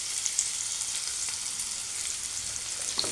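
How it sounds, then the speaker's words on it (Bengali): Green chillies sizzle in hot oil in a pan alongside cumin, fried garlic and onion for scrambled paneer, a steady close frying hiss with faint crackles and no talk. "কাঁচা লঙ্কা দিলাম।"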